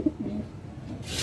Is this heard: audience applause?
no